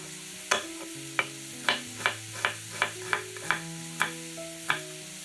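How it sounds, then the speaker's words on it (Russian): Champignon mushrooms frying over the highest heat in a pan and being stirred, giving about a dozen sharp utensil taps at an uneven pace. A faint sizzle runs beneath, along with quiet background music. "Жарим грибы на самом большом огне, периодически перемешиваем."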